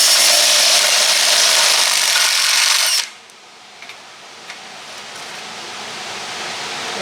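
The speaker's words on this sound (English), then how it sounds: "The drill bit doesn't want to hold" A power drill whirs loudly and steadily for about three seconds during work on a 1973 K10 truck frame, then cuts off, leaving a quiet room with a few faint clicks.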